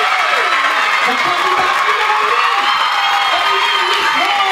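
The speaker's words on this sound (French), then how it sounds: "Sur les applaudissements." Audience at the Miss Ronde Réunion 2013 pageant applauds and cheers for the newly crowned winner, a steady, loud wash of clapping with whoops throughout while a host's voice rises over it.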